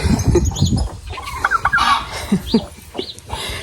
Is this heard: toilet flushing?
no